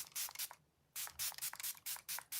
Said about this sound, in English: I'm gonna put the Milani Make It Last setting spray that I'm almost out of really quick